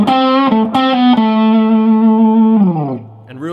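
A blues rock lick plays on a distorted electric guitar through effects, with a long sustained bend, a slide, and a few quick picked notes. It sounds loud and close, and no voice is heard.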